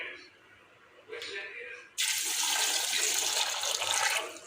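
Tap water runs over soaked white chickpeas being washed, a faint trickle at first that turns into a loud, steady gush for the last few seconds.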